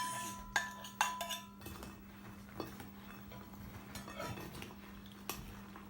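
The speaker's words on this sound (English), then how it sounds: "So now we're going to pour it into our chocolate mixture, and you're going to give it a good mix." Biscuit pieces being mixed into a chocolate cocoa and sugar mixture in a bowl for a no-bake cake, with a few sharp utensil clinks against the bowl and soft scraping under a steady low hum.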